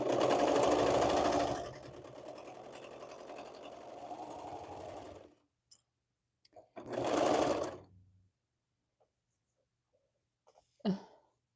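A sewing machine stitches a hoodie with its layers placed wrong sides together, first in one long steady run of close whirring, then in a few short bursts before falling quiet.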